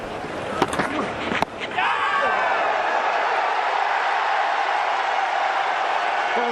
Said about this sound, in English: Oh, the crowd, they're baying for something.